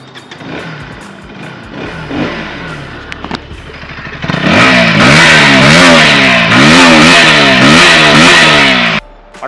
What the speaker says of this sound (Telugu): ఎగ్జాస్ట్ నోట్ వింటారా